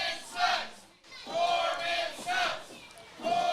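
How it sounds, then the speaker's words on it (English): A wrestling crowd at an indoor match jeers and shouts at a wrestler in waves of loud, overlapping voices, rising and falling with a brief lull near the start. "Crowd now letting Red James know what they think of him."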